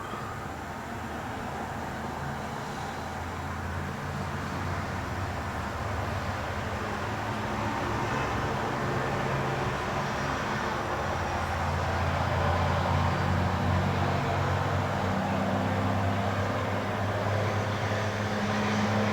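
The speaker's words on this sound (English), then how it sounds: "sorry about the road noise" Steady road traffic rumbles in the background, a continuous broad hiss and low drone that swells slightly as vehicles pass.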